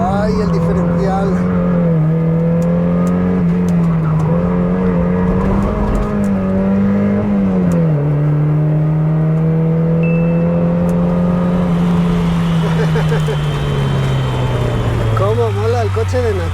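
Gasoline car accelerating hard with a steady engine drone that rises and drops at each gear change, loud and close throughout, with a person talking over it.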